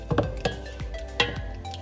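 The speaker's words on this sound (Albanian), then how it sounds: "I trazojmë të dyja bashkë." Cream and mustard stirred together in a pan, a few close spoon clinks and scrapes against the pan with soft wet squishing in between, irregular and brief, no voices.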